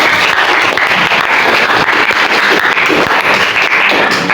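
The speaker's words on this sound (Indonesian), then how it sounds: "Tepuk tangan untuk dua kelompok yang sudah mewakili." Loud, dense clapping from a classroom or school audience applauding two student groups, sustained and even throughout with no talk over it.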